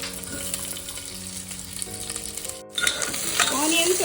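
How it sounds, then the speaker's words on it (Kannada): Sliced onions drop into hot tempering oil in a pan; a moderate sizzle turns into a louder, brighter crackle after a short break. "ಇವಾಗ ಒಗ್ಗರಣೆಯಲ್ಲಿ ನಾನು ಆನಿಯನ್ನ ಹಾಕ್ತಾ ಇದ್ದೀನಿ"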